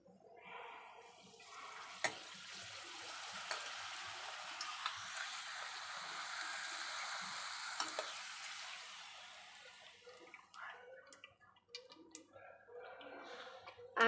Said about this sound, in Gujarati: આપણે પહેલાં પાપડ તળી લઈએ.